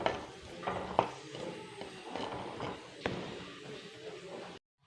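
Onions stirred and fried in oil in a pan with a spatula, a soft steady sizzle with scraping knocks of the utensil against the pan, heard close and fairly quiet.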